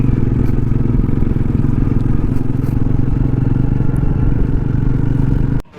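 A motorcycle on a mountain road in the Kathgodam hills, on a long-distance bike expedition, gives off a loud, close, steady engine drone with rattling clatter that cuts off abruptly at the end.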